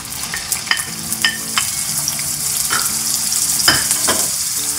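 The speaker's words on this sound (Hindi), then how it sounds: "प्याज को हम हल्का फ्राई करेंगे, ज़्यादा ब्राउन नहीं करेंगे, और इसको पिंक फ्राई करेंगे" Ground onion hits hot oil in a frying pan and sizzles steadily and loudly, with a broad crackling hiss and intermittent sharp pops and scrapes from stirring, no voices.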